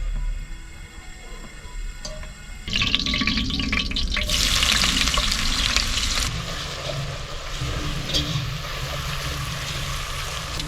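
Onions frying in a pan for a sauce of onion, salt, pepper, tomato paste and carrot-pepper sauce, a steady broadband sizzle that grows louder and denser partway through, with occasional scraping stirs and no voices.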